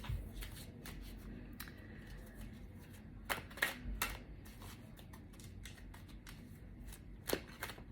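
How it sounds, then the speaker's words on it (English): Tarot cards are shuffled quietly at close range, a soft flutter of riffles and slides with a few sharper snaps of cards being cut and tapped, no voices present. "I'm going to pull a final card for you guys."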